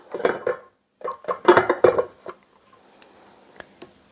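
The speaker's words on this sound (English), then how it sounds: "Give my spatula a scrape." A spatula scrapes and knocks against a stand mixer paddle to clear off flour from molasses cookie dough. A cluster of clattering scrapes is followed by a pause, then a few sparse, sharp taps.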